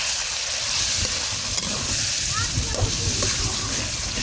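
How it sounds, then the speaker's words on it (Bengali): Masala spices frying in a pan give off a continuous loud sizzle, with scraping and stirring sounds layered on top throughout. "মশলা কষাই নিছি"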